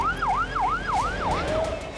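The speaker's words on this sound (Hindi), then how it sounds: "अचानक पूरे इलाके में सायरन गूंजने लगे" Emergency sirens wail in Beirut's Dahiya district after a large explosion, a loud rising-and-falling whoop that repeats several times over a rumbling street background.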